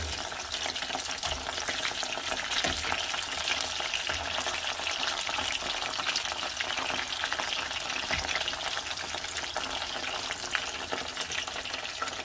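Ground beef tacos dorados fry in hot oil with a steady, dense crackling sizzle that runs unbroken throughout, plus a few soft thumps as the tacos are flipped; no one speaks.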